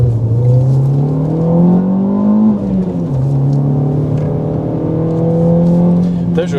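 Renault Clio 3 RS F1 Team driven fast, heard from inside as a loud, steady engine drone that rises, drops at a gear change, then holds high, with voices faintly underneath.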